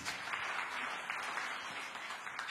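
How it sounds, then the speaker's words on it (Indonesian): Congregation applauding in church during an Indonesian sermon: steady, moderate clapping from a room full of people, unbroken and fairly distant, with no talk over it. "Tepuk tangan yang meriah bagi Tuhan."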